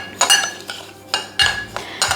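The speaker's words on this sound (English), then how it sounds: "all you have to do is whisk it up" Close metallic clinks and scrapes of a utensil beating vegan kimchi sauce in a bowl, a few quick uneven strokes.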